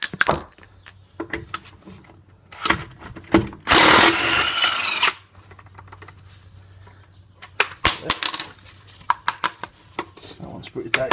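Air impact gun loosening lug nuts on a front wheel of a 2009-2015 Cadillac CTS-V, several short rattling bursts with one long loud hammering burst in the middle, close up among clanks of tools and handling noise.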